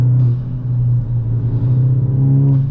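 A deep, steady engine rumble with a strong low drone, loud and continuous, from a straight-piped Volkswagen GTI exhaust heard from inside while driving.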